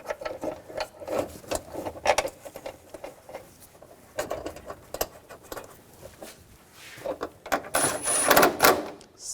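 Bolts being started by hand on the accessory drive belt tensioner of a 2000-2006 BMW X5 3.0L inline-six, giving close, irregular ratcheting and metallic clicking with rustling handling noise and no talking.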